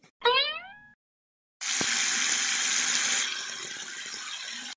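A short springy twang, then a burst of water gushing steadily from a tap, easing slightly toward the end.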